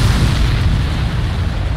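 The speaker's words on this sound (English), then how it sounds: "The missile hit its target. Everybody, keep a safe distance to avoid getting caught in the explosion." A missile explosion in the video game Ace Combat 7 produces a loud, sustained, deep rumbling roar that stays steady throughout, with no voices over it.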